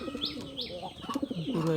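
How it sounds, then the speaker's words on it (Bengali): A racer pigeon housed with local Bangla pigeons gives soft, throaty coos close by, joined by a few brief higher chirps from other birds, with no speech. "এটা রেসার কবুতরটা বাংলা কবুতরের সাথে থাকতে থাকতে পুরাই"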